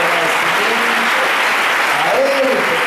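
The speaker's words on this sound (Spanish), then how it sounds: "Vamos a darle al Señor palmas bien fuertes." A congregation claps loudly and steadily throughout a Spanish-language church service, dense applause with faint voices mixed underneath.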